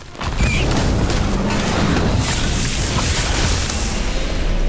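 A Confringo spell explodes in a Harry Potter video game, a loud sustained boom that sets off a heavy rumbling burst of crackling, crashing noise lasting several seconds without a break.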